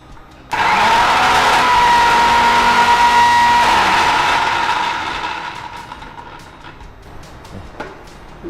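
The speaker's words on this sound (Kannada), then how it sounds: "ಈಗ ಇದನ್ನು ಸ್ವಲ್ಪ ಮಿಕ್ಸಿಗೆ ಹಾಕಿ ನಾವು" A kitchen mixer grinder blends a jaggery and raw mango drink, its motor starting abruptly into a loud, close, steady whir for about four seconds before winding down, followed by light clatter.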